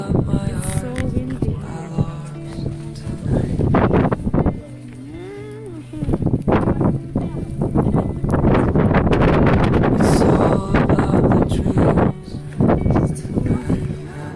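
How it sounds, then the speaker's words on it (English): Heavy wind buffets the microphone in strong low rumbles throughout, with a person talking over it outdoors at a bus stop in Las Vegas. "It's so windy."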